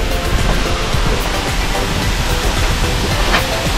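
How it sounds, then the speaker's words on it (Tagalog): Tomalistis Falls, a freshwater waterfall in the Philippines, roars as a dense, steady wash of falling water, loud and close, filling the whole scene without a break. "ito yung tinatawag nilang Tomalistis falls"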